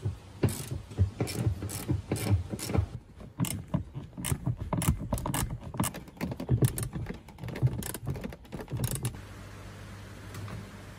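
Ratchet wrench backing out 15 mm seat bolts in a C5 Corvette, rapid clicking bursts in quick runs over several seconds before easing off.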